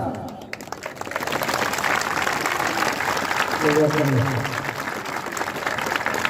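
A crowd at a Gwadar fishermen's rally claps loudly and steadily for several seconds, with a voice briefly heard over the applause partway through.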